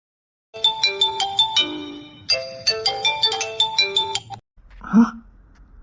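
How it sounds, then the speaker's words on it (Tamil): A phone ringtone plays a repeating melodic tune of bright chiming notes in two bursts, fairly loud and close, then cuts off as a voice speaks briefly. "போன் அடிக்குது."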